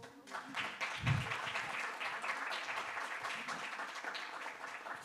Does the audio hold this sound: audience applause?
yes